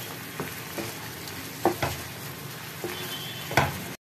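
Paneer sautés with spices in a frying pan, a soft continuous sizzle broken by several sharp scrapes and clinks of stirring before an abrupt stop.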